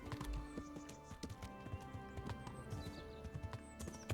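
Horse hooves clip-clop steadily in Kingdom Come: Deliverance, a close, even rhythm of hoofbeats that continues throughout with no talking over it.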